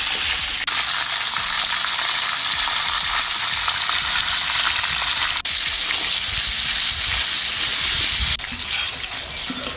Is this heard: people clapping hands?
no